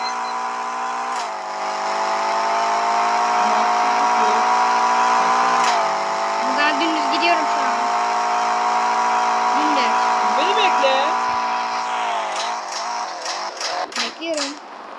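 Video game race with a Tofaş car, a steady synthesized engine drone holding pitch and shifting at gear changes, while children talk and laugh over it throughout.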